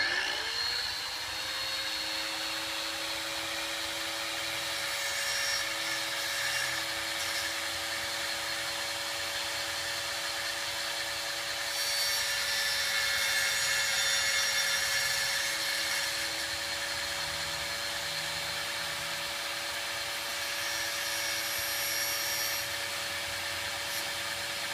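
A power tool cutting a notch into a subway tile for window casing molding, a steady high-pitched motor whine held for a long stretch with grinding, rasping bursts as the blade bites.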